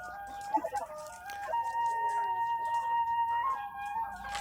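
White Elba chickens cluck and call in short, warbling bursts that rise and fall, close by, with a drawn-out crowing note running through the middle.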